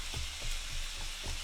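Onions frying in a pan on a home stovetop give off a steady, close sizzle with soft crackles and faint stirring bumps, with no talking.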